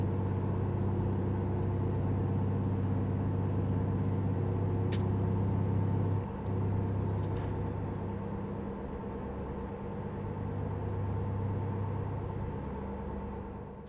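A heavy truck engine of 825 horsepower drones low and steady as it labours up a hill in American Truck Simulator, loud and close, with occasional faint clicks and a brief dip midway, no talk.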